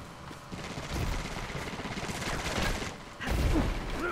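Nightshade gun in Destiny 2 multiplayer firing, a dense stream of game gunfire with repeated bursts, loud and close, rising to a heavier blast near the end.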